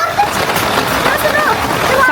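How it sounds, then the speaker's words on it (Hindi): Heavy monsoon rain of the Sawan season pours down steadily, a dense, continuous splashing and hiss that fills the whole moment, with faint voices underneath. "तेज हो गई, तेज हो गई बारिश।"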